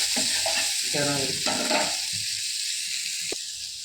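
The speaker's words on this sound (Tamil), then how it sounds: "நல்ல கேரட் வதங்கட்டும்" Carrots sauté in oil on a low flame, a close bubbling sizzle mixed with brisk stirring scrapes that ease off into a quieter steady hiss, with one sharp tap near the end.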